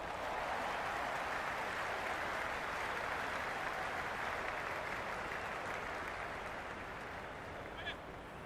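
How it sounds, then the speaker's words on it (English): A cricket stadium crowd at a Big Bash match between the Melbourne Renegades and Hobart Hurricanes cheers and applauds, a dense, steady wash of distant roar and clapping that holds for the whole stretch with no commentary over it. "The crowd is electric right now."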